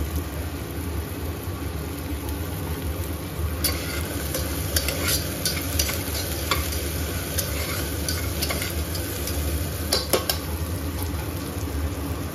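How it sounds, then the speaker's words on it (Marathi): Onion fried in a pan until reddish-brown for a toddler's vegetable khichdi, a steady loud sizzle running throughout with scattered scraping stir strokes and clicks on top. "साधारणतः कांदा चांगला लालसर भाजेपर्यंत आपण हे भाजून घेऊयात।"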